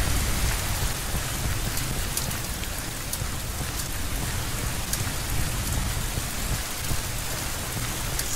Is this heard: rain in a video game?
yes